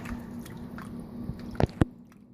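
Spoon stirs white chicken chili ingredients in a pot, making soft wet squishing sounds with a couple of brief knocks near the end.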